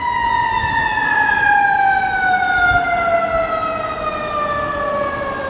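Fire engine siren wailing loud and close, a steady tone with stacked harmonics slowly sliding downward as the truck passes, over low road rumble with no talk.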